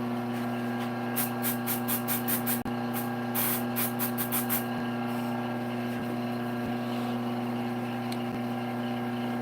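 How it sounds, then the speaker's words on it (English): Satellite City CA glue accelerator sprayed in two runs of quick, sharp hissing puffs, close up, over a steady low electrical hum. "Spray it with my Satellite City accelerator."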